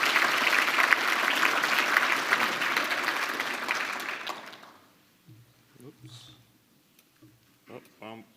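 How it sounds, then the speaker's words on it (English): A room of people gives a round of applause for Andrew, sustained clapping for about four seconds that fades out, followed by a few scattered speech sounds. "Big round of applause for Andrew."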